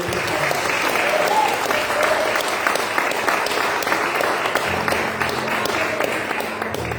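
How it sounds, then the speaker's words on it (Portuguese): A church congregation applauds during a worship service, a thick, continuous wash of clapping that holds steady for several seconds, with faint crowd murmur beneath. "levanta a mão e aplauda Jesus, o Rei da Glória"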